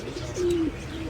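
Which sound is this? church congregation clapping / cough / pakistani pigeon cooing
pakistani pigeon cooing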